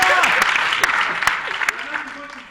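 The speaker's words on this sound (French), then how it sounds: "Applaudissons pour le lieutenant." A studio audience applauds, dense clapping that is loud at first and then thins and fades, while a voice talks over it.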